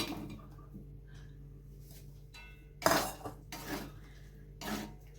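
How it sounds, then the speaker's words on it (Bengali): A spatula scrapes and clinks against a pan while stirring amla into melted jaggery, with a few sharp metallic knocks and scrapes spaced out against quiet gaps. "আমলকিটা দিয়ে আমি ভালোভাবে নাড়াচাড়া করে নিলাম খুন্তি দিয়ে"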